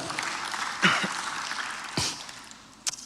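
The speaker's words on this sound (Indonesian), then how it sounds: "Tepuk tangan untuk Tuhan kita." A church congregation applauds during a sermon, producing a moderately loud, even wash of clapping with a few sharper, closer claps standing out, then thinning near the end.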